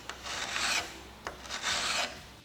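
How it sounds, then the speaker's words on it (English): A hand file rasps along the edges of a 4140 steel fly cutter in two long close strokes, each a dry scraping burst with a short pause between them. "Then we can knock off all the main edges with a file"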